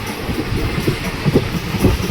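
A moving passenger train on the Lathi to Junagadh line rumbles loudly and steadily from inside the coach, with soft rhythmic wheel knocks over the continuous roar.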